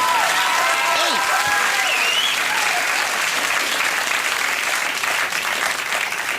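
A late-night television studio audience applauds, loud and sustained clapping filling the whole stretch, with some cheering and whoops rising above it early on.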